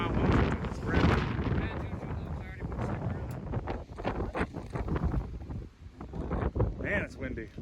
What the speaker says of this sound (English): Man, it's windy. It's blowing me over.